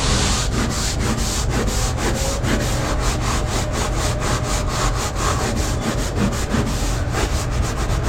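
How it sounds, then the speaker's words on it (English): Stiff hard-bristle brush scrubbing the textured non-skid deck of a Yamaha FSH 255 boat, a dense, rapid back-and-forth rasping that carries on loud and close without a break. "Remember not to touch the soft surfaces with this hard bristle brush."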